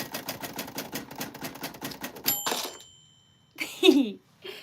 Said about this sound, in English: This is a typewriter from 1949, and she does have a bell